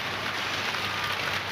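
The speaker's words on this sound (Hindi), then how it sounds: "माशाल्लाह अचानक ही बहुत तेज बारिश आ गई है दोस्तों," Heavy rain pours down steadily in Karachi, a dense, even hiss of drops on surfaces close by with no break and no voices.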